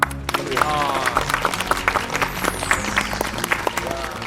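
A studio audience claps together in a broad, steady burst of applause that fills the room, with a host's voice faintly heard over it.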